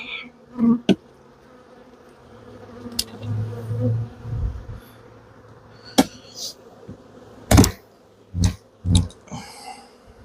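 Honeybees buzz around hive frames as they are shaken off during a nuc-building inspection, a low steady hum punctuated by several sharp knocks and thumps near the end.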